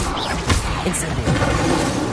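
The Incendio fire spell is cast in Hogwarts Legacy with a short, loud crackling burst and whoosh. A voice speaks over it in this brief moment.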